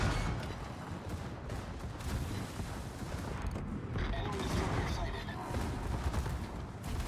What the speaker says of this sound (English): Secondaries firing everywhere.